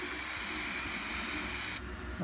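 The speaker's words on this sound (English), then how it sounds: "I'm going to spray it with just a spray adhesive" Spray adhesive hisses steadily from an aerosol can onto plywood for a model shop build, close and continuous, then the high spray cuts off abruptly near the end.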